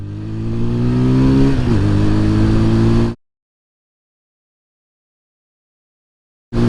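A new 160cc family motorcycle in urban mode accelerates from a standstill toward sixty, its engine droning louder and climbing in pitch. One shift dips the note partway through. The sound then cuts to dead silence and returns briefly at the end.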